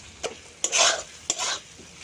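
Tomatoes go into a pan of frying spices for a vegetarian ridge gourd dish. Two or three bursts of loud, close sizzling follow, broken up by the scrape of stirring and with only a faint hiss between them.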